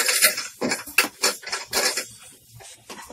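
Dry fruits and nuts stirred into panch meva paag in a pan, giving a quick series of crisp scraping and clattering strokes that are close and fairly loud, with no talking.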